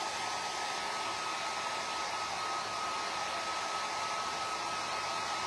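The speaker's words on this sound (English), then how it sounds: "with the hairdryer" A hair dryer blows steadily to dry ink painted on vinyl, a constant close whoosh with a thin whine running through it and no other sounds or voices.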